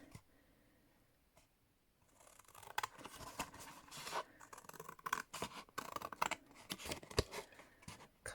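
Scissors cut through card for a handmade gift box, starting with faint quiet handling and then a quick irregular run of close crisp snips and scraping strokes.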